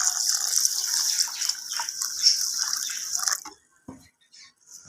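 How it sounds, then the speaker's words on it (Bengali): Water gushes steadily into a bowl of washed gobindobhog rice for a few seconds, a bright splashing pour, then stops and leaves only a few faint drips and small sounds. "আমি এই জল দিয়ে দিচ্ছি।"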